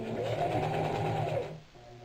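A sewing machine runs a short back stitch through burlap coffee sack fabric, a steady close mechanical whirr for about a second and a half that then stops.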